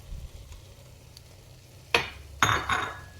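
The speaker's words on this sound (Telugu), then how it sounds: "ఈ ఫ్రై చేసుకున్న కాజు, కిస్మిస్, పచ్చి కొబ్బరి ఫ్రై అన్నీ వేసేస్తున్నాను" Fried cashews, raisins and grated fresh coconut tipped into a pot of sweet pongal, giving two sharp clattering drops followed by a brief sizzle and stirring, close and alone after a quiet stretch.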